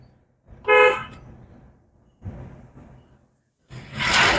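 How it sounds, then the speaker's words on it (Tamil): A car horn gives two short honks during driving, separated by quieter engine and road noise, close and fairly loud. "ஹார்ன் அடிங்க."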